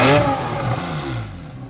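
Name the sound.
Porsche 911 Carrera S sports exhaust with valves open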